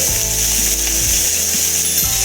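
Tomatoes and salt sauté in a pan for tomato soup. A loud, constant sizzling hiss lies over a low mechanical pulse that repeats roughly every half second, close and steady, without speech.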